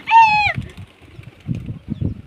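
Startled pigeons on a rooftop burst into flight with a short, loud flurry of flapping wings and a brief call, followed by quieter scattered flutters and shuffling.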